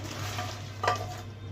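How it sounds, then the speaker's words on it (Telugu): Red chillies roast in a pan on a low flame, a gentle steady sizzle close by with one brief scrape of a stirring utensil near the middle, no voices. "సిమ్లో పెట్టుకొని వేపుకోవాలి మాడకూడదు మిర్చి కూడా వేగింది ఇలా వేపుకోవాలి"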